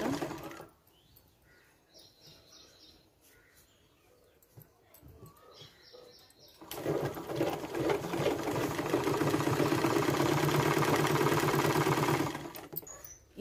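A sewing machine stitches blouse fabric, running in steady bursts at first, then a loud, continuous run of close, rapid stitching for several seconds before it stops.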